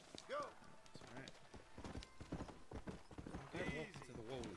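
Horse hooves clip-clopping in the video game Red Dead Redemption, a quick irregular patter of hoofbeats mixed with a voice talking over them throughout.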